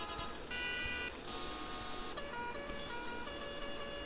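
Motorbike horn options on a modified KTM Duke being tried out in a video game, a run of sustained electronic horn and buzzer tones that switch pitch and timbre every second or so, loud and close with no talk.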